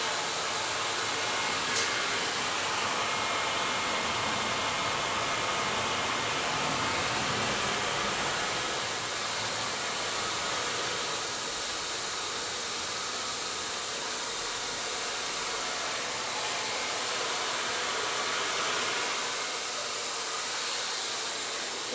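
A hair dryer blows in a steady, broadband rush of air throughout, close and even in level, while being used to lift and dry hair.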